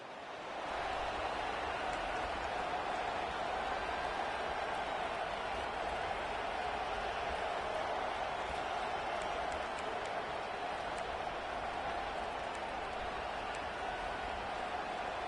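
Dense, roaring stadium crowd at a college football game in NCAA 25, home of the war chant, a steady wash of cheering and noise sustained at high level after a brief quiet start.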